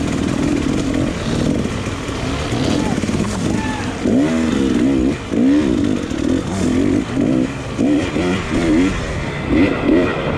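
A dirt bike racing fast over rough terrain at the 2019 Tennessee Knockout, its engine loud and close, rising and falling in repeated revs as the rider pushes through.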